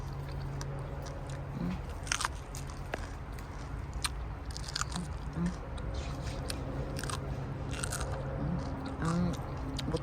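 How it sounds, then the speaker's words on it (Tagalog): Crunchy bell pepper being bitten and chewed outdoors in a Fresno vegetable garden, with several crisp crackling bites and chews spread across the stretch over a steady low background hum. "bell pepper. Crunchy ba?"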